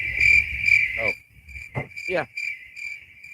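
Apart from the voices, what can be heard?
crickets chirping sound effect, meaning silence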